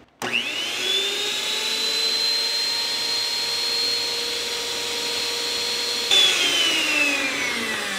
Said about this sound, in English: you're just going to mix them until it's well incorporated